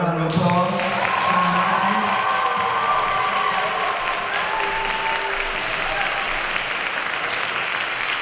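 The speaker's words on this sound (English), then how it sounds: "Can we all give her a round of applause?" Audience at a We Are the World 2019 event breaking into a sustained round of applause, dense clapping with some cheering and shouts from children throughout, fairly loud and steady.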